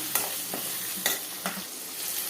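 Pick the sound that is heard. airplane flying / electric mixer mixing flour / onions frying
onions frying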